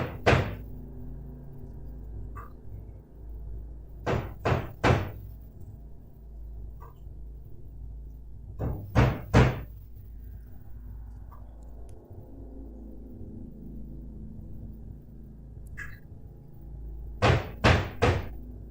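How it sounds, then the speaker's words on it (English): Loud banging on a door or wall in a quiet room: sharp heavy knocks in clusters of three, with long near-silent gaps between the groups. "So somebody banging on the door or the wall?"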